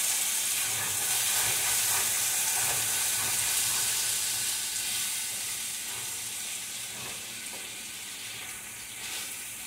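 Egg pie mixture with cheese fries in a pan while being stirred, giving a steady close sizzle and hiss that fades slightly toward the end, with faint scraping stirs and no talking.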